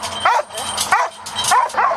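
A search-and-rescue dog at a rescue drill in a Wrocław stadium gives four sharp, yelping barks in an even rhythm, close and loud over a background hiss.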